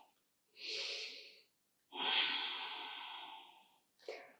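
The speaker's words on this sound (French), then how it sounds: "On va rester ici 3 respirations." Slow, soft breathing held in a hatha yoga pose: a long airy breath, a pause, a longer exhale that gradually fades, and the start of another breath, close and quiet.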